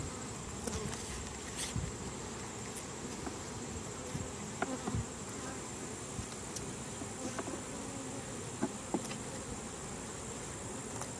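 Bees buzz steadily around an open hive during a late-August inspection, a dense continuous hum with occasional louder insects passing close by, no voices.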